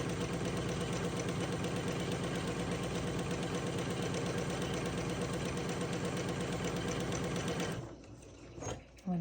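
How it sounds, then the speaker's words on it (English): A sewing machine runs continuously, stitching a quarter-inch seam along a drawn line on a churn dash quilt block. The needle gives a fast, even mechanical whir for about eight seconds, then stops, leaving a few soft handling sounds. "sew a 1/4 inch on the other side of the pink line that I've drawn"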